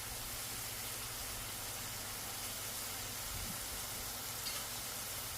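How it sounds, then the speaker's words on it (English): Mahi mahi fish sears in a hot pan, giving a steady, soft, even sizzle throughout with no voices over it. "And let that sear up."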